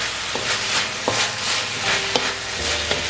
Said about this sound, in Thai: เสร็จแล้วก็คลุกเคล้าให้เข้ากันครับ